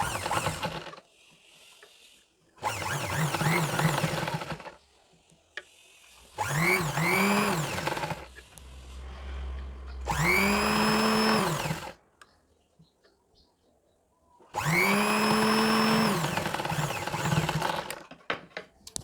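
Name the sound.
sewing machine stitching zigzag on old sweater fabric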